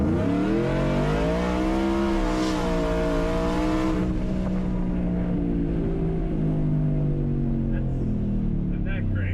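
Big supercharged truck engine revving hard, its pitch rising and falling in loud sweeps, close by and filling the whole stretch with steady roar.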